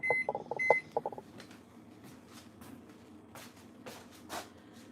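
An oven timer is set for ten minutes: a quick series of sharp electronic beeps from button presses up close, followed by quiet kitchen handling noises.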